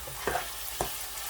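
Chicken masala boti frying in a pan with onions: a steady close sizzle broken by two quick scraping stir strokes, heard alone without talk.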